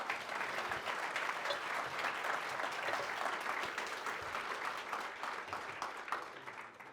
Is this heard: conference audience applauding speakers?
yes